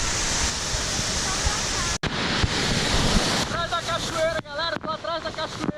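A waterfall in the wild sends out a loud, constant roar of rushing water close by, briefly cut, then continuing under a voice speaking in the final seconds.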